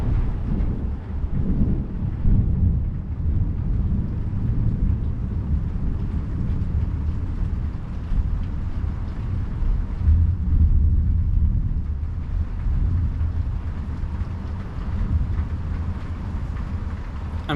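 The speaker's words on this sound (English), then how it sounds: "That was a long-lasting thunder." A long, deep rumble of thunder rolls on without a break during a storm with high winds and heavy rain, loud and sustained, swelling and fading slightly but never stopping.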